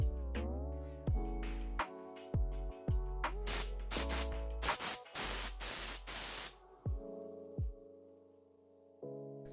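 A blowgun on an air hose from a Kobalt air compressor, connected with high-flow V-style fittings, fires a series of sharp hissing bursts of air, several longer blasts clustered in the middle, over a low hum and occasional thuds.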